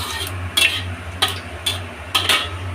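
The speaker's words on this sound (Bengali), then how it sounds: "অফ করে দিয়ে আমি নাড়াচাড়া করে নেব।" Mushroom curry being stirred in a pan with the gas turned off: four short scraping, clinking strokes of a utensil against the pan, spaced irregularly over a low steady hum, with no talk.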